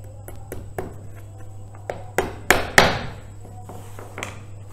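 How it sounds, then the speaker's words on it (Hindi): A nail being hammered into the side of a large wooden canvas frame, starting with light taps and building to several loud, close strikes over a steady low hum. "इस साइड पर आपको वैसे टाइट करके एक और कील लगा देना है"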